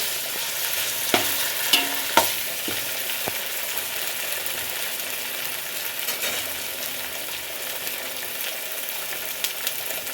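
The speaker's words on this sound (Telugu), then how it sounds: "అల్లం వెల్లుల్లి పేస్ట్ వేసుకుంటే చాలండి, ఎక్కువ వద్దు. పచ్చివాసన పోయే వరకు ఇందులోనే నెయ్యిలోనే వేపుకోండి." Ginger garlic paste frying in ghee makes a steady hiss, with a handful of sharp spatula knocks early on and softer stirring afterward, heard up close with no voices.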